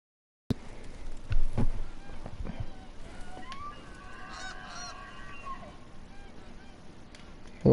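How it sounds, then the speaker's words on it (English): Repeated honking goose calls from the hunting video game Hunter: Call of the Wild, a cluster of overlapping honks in the middle over a steady outdoor ambience, moderately distant. "Just listening to goose calls."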